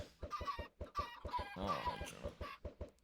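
Chickens in Minecraft, in the All The Mods 9 modpack, cluck in a quick, rhythmic series of short clucks, close and fairly soft, with a brief squawk partway through.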